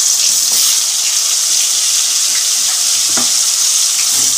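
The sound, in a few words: potatoes frying in hot oil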